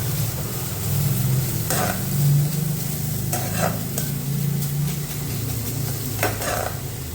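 Curry leaves sizzle in hot tempering oil for samiya upma, a steady close frying hiss with a low rumble under it and a few brief sharp crackles and stirring clinks, no voices.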